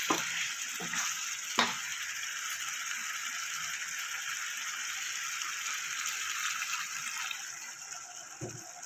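Dry chilli chicken sizzling in a pan, a steady bright hiss with a few sharp clanks and scrapes of utensils near the start and end, close up and without voices.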